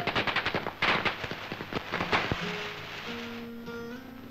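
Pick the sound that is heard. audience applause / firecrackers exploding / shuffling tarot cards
firecrackers exploding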